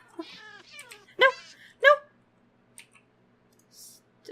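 A Minecraft cat in a Thaumcraft modpack meows twice, with two loud, close calls about half a second apart. A few faint clicks come before and after.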